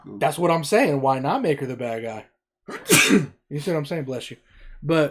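A single sharp sneeze bursts out between stretches of conversational speech, close and loud, with people talking before and after it.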